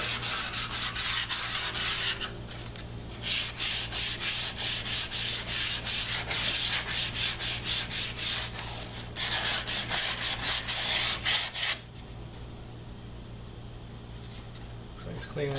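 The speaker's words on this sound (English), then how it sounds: "Get some 120 grit. See if that works." A metal tractor front differential part is sanded by hand with 120 grit sandpaper, making loud, close, rhythmic rasping strokes in long runs that break off briefly, with a low steady hum underneath.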